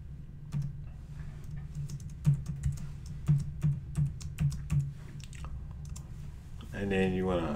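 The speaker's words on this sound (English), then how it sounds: "You want to put in your username and password." Computer keyboard typing a username and password to log in to a WordPress admin panel: a run of separate close key clicks, then a brief voice at the end.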